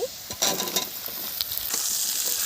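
Onions and panch phoron spices hitting hot oil with dried red chilli, a sharp sizzle that bursts up and stays crackling close by, with some stirring clatter.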